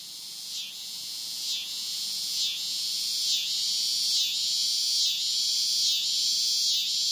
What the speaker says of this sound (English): the cicada announces the seasons change like no other